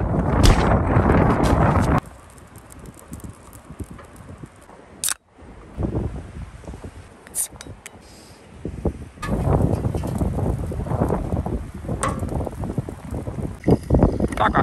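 Gusty wind buffets the microphone in loud rumbling bursts, easing off to a quieter stretch in the middle before picking up strongly again.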